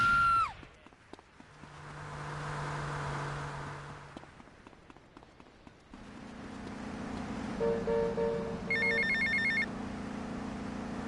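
A phone rings in Grand Theft Auto: Vice City, with electronic ringtone bursts over game engine and street ambience, the ring pattern repeating loudly toward the end.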